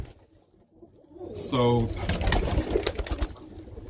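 Roller pigeons coo in a loft, a few soft rolling calls rising close by, with someone talking over and around them.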